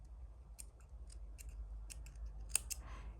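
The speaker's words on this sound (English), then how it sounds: "cutting all the knots" Scissors snip yarn knots on a crochet granny square, a series of quick, crisp, close cuts spaced irregularly over quiet background hum, with one sharper snip near the end.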